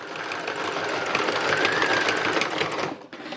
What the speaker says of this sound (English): I'm adding a little bit more stitching to the sort of the base flowers